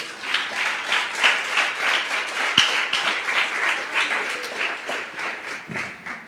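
A church congregation claps in praise during a Portuguese-language sermon, loud and close, with a steady wash of hands that swells and eases across several seconds, plus a sharp knock partway through.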